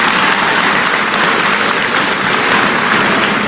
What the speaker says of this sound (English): Clap it up for them, please.